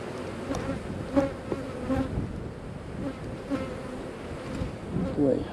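Honey bees buzzing around an opened honey-bound hive, a steady droning hum with individual bees zipping past close to the microphone, continuous and moderately loud.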